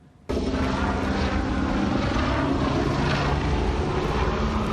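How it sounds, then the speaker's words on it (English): A helicopter flying in rain and fog, a loud, steady rotor and engine roar that starts abruptly and holds close and constant throughout, with no voices. "this is video of what's believed to be the chopper flying erratically in the rain and fog just minutes before the crash"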